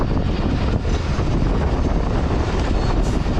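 The Mohenjo-Daro passenger train runs along the bank of the Indus river with a steady, loud rumble and rattle of the carriages, mixed with wind noise and no voices.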